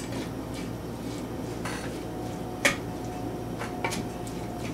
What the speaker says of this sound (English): You're gonna mix it in.